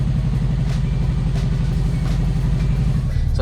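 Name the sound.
abandoned classic Porsche engine running, struggling to idle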